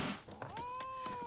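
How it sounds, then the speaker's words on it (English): A cat in The Witcher 3: Wild Hunt gives a single rising, drawn-out meow, heard over quiet game ambience and faint footstep-like taps. "Please just love me, kitty."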